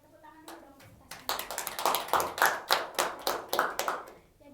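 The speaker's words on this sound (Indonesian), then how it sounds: "Tepuk tangan dulu dong untuk kita." A small group clapping hands together at the close of a group counseling session, starting with a few scattered claps then building into a brisk, fairly even round of applause that fades at the end, moderately close.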